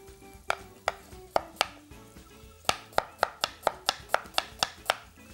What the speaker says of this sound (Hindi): यहाँ पे मेरे पास मौजूद है 2 अदद दरमियाने साइज की प्याज, इसको बारीक स्लाइस कर लें।